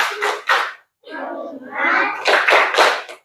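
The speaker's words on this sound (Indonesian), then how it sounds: "Tepuk fokus dulu" Schoolchildren in a classroom do a rhythmic focus clap, bursts of close, loud unison claps alternating with the children chanting together in a group pattern.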